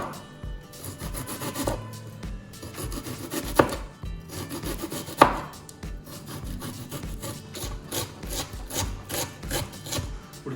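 Onions being chopped very finely with a knife for chicken biryani, rapid steady knife strikes on a cutting board in quick rhythmic runs, close and clear with no talking.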